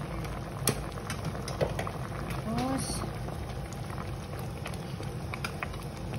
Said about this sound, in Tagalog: Pakuluin lang natin ng mga 10 minutes.